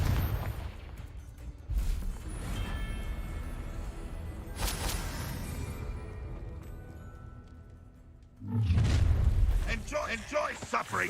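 A Confringo blasting spell explodes in Hogwarts Legacy, a heavy booming blast near the end after a stretch of rumbling combat noise and scattered impacts.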